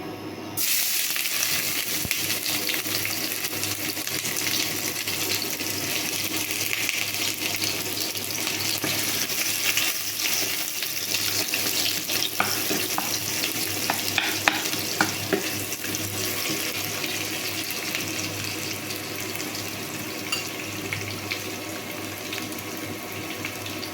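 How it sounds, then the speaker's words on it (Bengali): Sliced onion frying in hot oil in a pan gives a steady, even sizzle with a faint crackle that holds at the same level throughout, with no talking over it. "এখন আমি তেলের মধ্যে পেঁয়াজ দেবো।"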